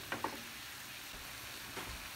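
Vegetables release their juices and sizzle quietly in a pan while cooking for chicken and shrimp Alfredo pasta, a soft steady frying hiss with a couple of light clinks of stirring near the start.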